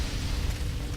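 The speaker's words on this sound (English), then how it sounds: "Big fire explosion" A brief, roaring fire explosion in Fallout 3 with heavy low rumble fills the moment, a dense explosive boom sustained for about a second.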